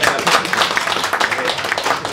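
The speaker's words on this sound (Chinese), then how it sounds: "那么大家掌声有请一下薛海培" An audience at a Chinese American history and culture museum forum in Philadelphia applauds, a dense steady patter of many hands clapping, moderately loud and sustained throughout the brief moment.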